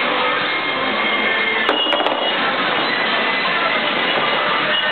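Steady, dense mechanical clatter and hum of a wine bottling line at an Arizona winery fill the space continuously, with a few brief clinks of bottles near the middle.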